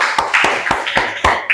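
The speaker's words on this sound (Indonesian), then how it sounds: "Ya, tepuk tangan." A small classroom group claps during a school presentation, a short burst of sharp, uneven hand claps, close and loud, with no talking over it.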